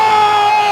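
A live wrestling crowd during a table match roars in a sustained, dense wave of cheering and gasping, loud and close, with no talk over it.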